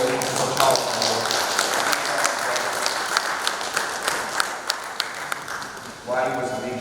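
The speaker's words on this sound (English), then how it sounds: "Let's keep the applause going for Mr." Audience applause at a book presentation event fills the room as a steady, dense wash of clapping with sharp individual claps, dipping briefly near the end before swelling again; a voice may be faintly present beneath.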